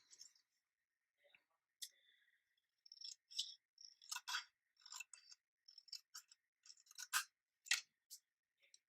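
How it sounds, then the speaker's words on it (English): Scissors snip paper freehand in a series of crisp, quiet, close cuts, irregular clicks and short slicing bursts with small pauses between them. "I'm going to bring in my scissors and I'm going to freehand cut."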